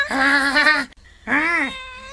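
A cat gives two drawn-out meows, close and loud, separated by a short pause, with a quiet room behind.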